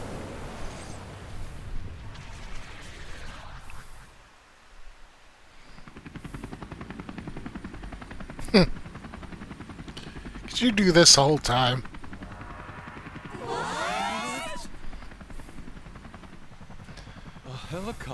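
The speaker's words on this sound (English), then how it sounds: "A helicopter." In the video game Persona 5 Royal, a helicopter whirs steadily in the background while characters talk over it, with a few sharp bursts and a louder rush near the middle.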